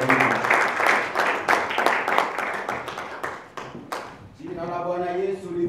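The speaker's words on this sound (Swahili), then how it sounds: "Tunakaribisha mhubiri, tupige makofi na vigelegele" A church congregation claps in quick rhythmic bursts to welcome the preacher, the clapping close and lively for several seconds before it gives way to a held, wavering high voice that may be ululation.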